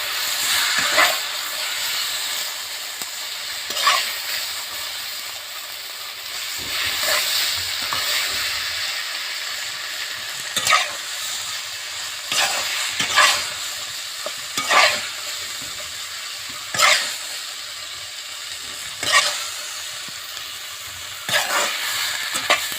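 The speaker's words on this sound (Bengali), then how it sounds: "শাকটা একটু আমি হালকা কষিয়ে নেব।" Greens sauté in a pan with tomato and cumin, a soft continuous sizzle punctuated every couple of seconds by the scrape of a spatula stirring.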